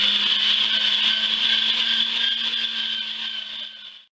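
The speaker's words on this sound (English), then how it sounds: "we're going to mince the fat and the venison together" A meat mincer grinds venison and pork back fat in a steady, loud whirring drone with a constant motor whine, running alone before winding down at the end.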